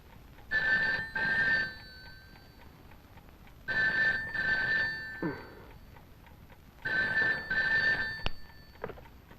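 An old-style telephone bell rings in a film scene with three separate bursts, each made of two quick trills, clear and close, followed by a faint click as it stops.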